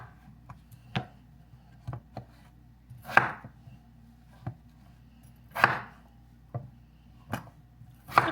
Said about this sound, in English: I'm just going to cut them about the same size as my carrot so they cook all at the same time